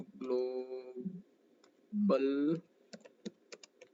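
Someone types on a computer keyboard, leaving a few light, scattered key clicks after a spoken voice.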